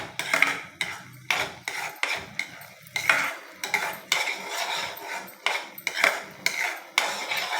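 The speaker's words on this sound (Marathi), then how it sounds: "आपण जसं उपीट बनवतो तसं याला हलवायचं आहे" Upma is stirred in a pan over a low flame, a utensil scraping and clinking against the metal in steady repeated strokes, close and clear with no talking.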